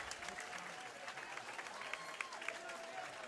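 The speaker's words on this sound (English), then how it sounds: "Everybody's going to give him a round of applause here." Crowd applause at a Nemesis Fighting Alliance combat event, a steady wash of clapping from the arena audience with a voice talking over it.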